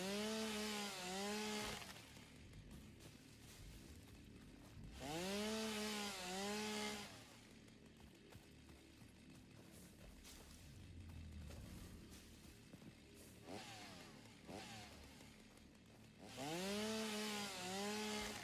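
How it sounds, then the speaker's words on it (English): A chainsaw cuts trees in the video game Satisfactory, with loud revving whines that rise and fall in three separated bursts over a rumbling, grinding background. "Oh, I love my chainsaw."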